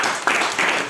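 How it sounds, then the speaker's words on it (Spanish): A church congregation claps in praise during a worship service, a short burst of dense applause from many hands, close and lively. "Aplaudan al Padre"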